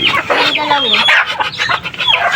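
Farm fowl calling close by, with a busy run of clucks and squawks from a small flock of ducks, mixed with a person speaking.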